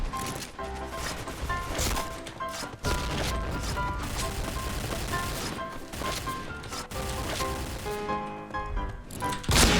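The L gun fires continuously at the shooting range in the Point Blank online shooter: loud, dense, unbroken gunfire that runs for nearly ten seconds, with game sound effects layered underneath.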